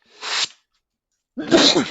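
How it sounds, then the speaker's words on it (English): A single sneeze from a person during a Scrap Mechanic Survival live stream: a brief breathy intake, a pause of silence, then a sharp, close, explosive burst. "That was a sneeze."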